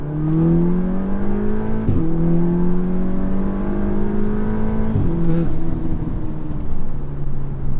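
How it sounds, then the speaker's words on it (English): A tuned Audi S3 engine holds a steady drone that climbs in pitch, drops sharply at a gear change, then climbs again, loud and close on a back road with no talking. "That was a good straightaway rip on the car."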